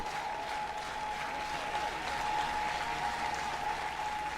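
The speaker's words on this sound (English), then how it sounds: "Crowd getting into it" A crowd cheering and applauding at an NCAA softball game between LSU and San Diego State, a sustained, moderately distant wash of clapping and crowd noise in a stadium, steady throughout with a faint tonal hum underneath.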